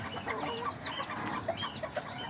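Miniature bantam hens cluck softly in a quiet run of short, scattered clucks, faint and close together, with no voices.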